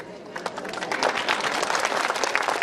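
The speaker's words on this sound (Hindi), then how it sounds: "ताली तो पहले ही बजनी चाहिए ना" Audience applause at a school alumni meet in India: a dense, sustained burst of many hands clapping at once, loud and close throughout, with no break or talk standing out above it.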